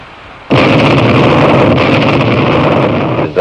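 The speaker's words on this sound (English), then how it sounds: "A moving shock wave is what you hear when there is an explosion." A sudden, loud explosive blast bursts in and keeps roaring at full strength for about three seconds before cutting off.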